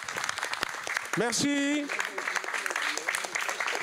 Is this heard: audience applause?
yes